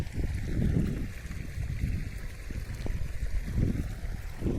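Irrigation water from a motor pump pours steadily into a wheat field furrow, a continuous close rushing and gurgling flow with low rumble and no talk.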